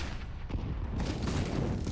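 SMG gunfire in the Counter-Strike game on the Dust2 map, a fairly quiet, dense burst of rapid shots running steadily with the round underway.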